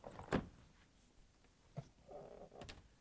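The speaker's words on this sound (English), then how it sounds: "To get to the part, we need to open the left side French door." The left French door of an LG/Kenmore refrigerator opens with a soft thump and seal release, followed by a few lighter knocks and a brief low rumble of handling, all fairly quiet and close.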